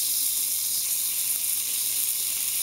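A beef strip steak sears on its edge in a hot pan, giving a steady, bright sizzle that stays loud and even throughout, with no talking.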